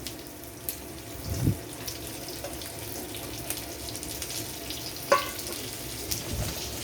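Chopped onions hit hot oil for a fish-head and rice ghonto, giving a steady hiss with a sharper crackle near the end, close and unaccompanied by speech.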